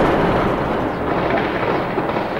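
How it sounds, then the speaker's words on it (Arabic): Heavy gunfire and explosions from street clashes in the Qusour district of Homs, Syria, in 2012 form a dense, continuous roar of overlapping blasts and shots at steady loudness, with no voices. "إطلاق نار كثيف واشتباكات عنيفة الآن."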